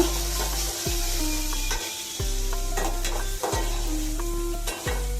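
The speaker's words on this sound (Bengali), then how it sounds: "পেঁয়াজটা একটু হালকা লাল করে ভেজে নেব" Onion and green chilies fry in a pan, giving a continuous sizzle under repeated scraping strokes from a stirring spoon against the metal, with rhythmic clanks about every second and a half and no voices.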